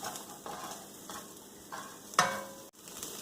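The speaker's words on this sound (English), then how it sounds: "we're just going to cook these until they get translucent." Onions sizzling in a pan as they soften and turn translucent, a soft steady frying hiss with gentle stirring scrapes every half second or so and one sharper clink near the end, close and quiet, with no talking.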